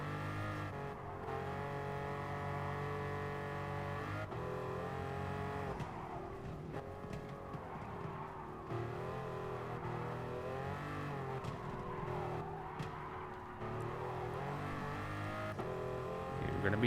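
Bugatti Veyron engine in Gran Turismo Sport during a casual race lap, a steady loud droning roar with rising and falling revs and gear shifts, continuous throughout with no talk.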